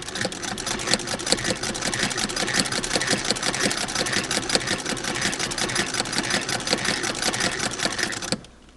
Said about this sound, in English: in order to stitch those pieces together, I need to be able to sew through 6 layers of muslin.